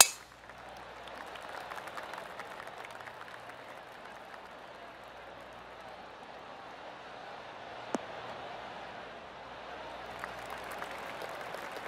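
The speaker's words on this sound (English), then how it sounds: "Oh, golf clap." Polite golf-clap applause from a gallery in the PGA Tour 2K23 video game, a soft, steady patter of many hands lasting several seconds, fairly quiet, with one brief metallic click partway through.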